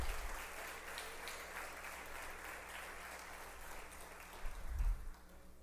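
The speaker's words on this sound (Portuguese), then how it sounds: "Você pode dar para Jesus um aplauso por essa palavra?" Church congregation applauding during a worship service, a steady even patter of many hands at moderate distance, with a brief low thump near the end.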